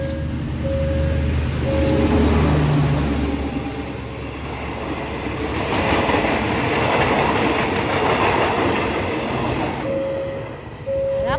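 An Alstom diesel locomotive hauls a train past a railway crossing in Thailand. A loud, steady rumble of engine and wagons rolls through with wheel clatter, and a crossing bell tone rings at the start and again at the end.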